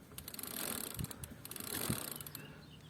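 Stiff cranks on a 2010 Specialized Hardrock mountain bike being turned by hand, giving a faint, steady mechanical whirring and grinding with a couple of soft knocks, close by and without talk.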